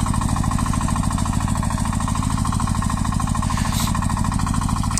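Tractor engine labouring close by while pulling a Bomet disc harrow over a wet garden, a loud fast steady diesel knocking pulse that continues without a break.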